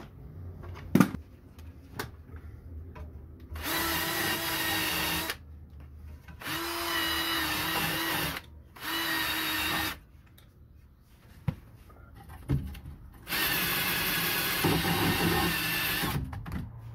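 A power tool grinds rust off a bucket during stabilizer bar link work on a 2006 Honda Pilot, in loud, steady whirring bursts of a few seconds each, separated by short pauses and occasional clanks.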